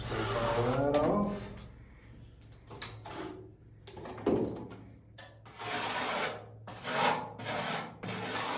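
Scraping off a low spot on a cork wall tile during installation, a series of rough rasping strokes that come in separate bursts with short pauses between them, close and fairly loud.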